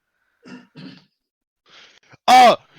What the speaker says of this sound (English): Who keeps coughing?